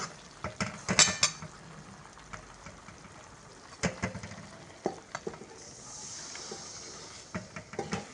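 Spice masala with dal paste stirred in a pan, heard as scattered metallic scrapes and clinks of a utensil against the pan, with a faint sizzle between strokes and a louder cluster of clatters near the start.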